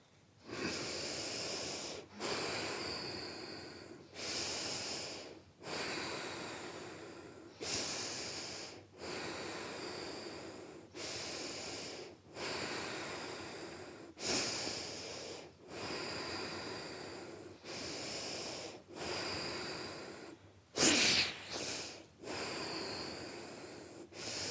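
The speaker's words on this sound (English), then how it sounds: "keep breathing deep and full" Slow, deep guided breathing: a long run of full, rhythmic inhales and exhales through the nose and mouth, each lasting a second or two, close and steady with a brief sharper gasp near the end.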